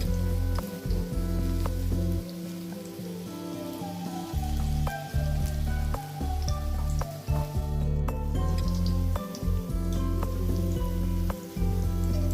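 Steady crackling sizzle of food frying in hot oil, dense and continuous with bubbling pops, close and fairly loud, no voices.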